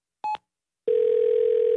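A phone call connects: a short tone blip, a brief pause, then a steady, loud, continuous ringing tone.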